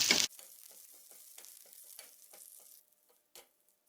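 After a loud opening burst, curry leaves crackle and sizzle faintly in hot oil for a few seconds, then the sound dies away to near silence.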